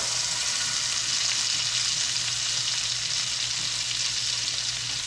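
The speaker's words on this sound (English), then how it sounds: "I'm probably gonna baste it for like 45 seconds" Fish sizzles and fries steadily in a hot pan while being basted with butter, a dense, continuous crackle held close and loud throughout with no voices.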